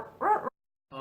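A person imitates a Cocker Spaniel with a short voiced bark, then a pause and the start of another bark.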